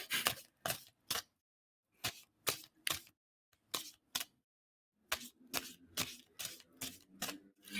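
Tarot cards being shuffled in short crisp bursts of riffling, several quick clusters separated by pauses, close and fairly quiet.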